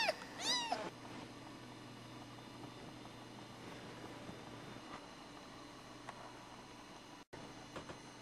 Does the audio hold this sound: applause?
no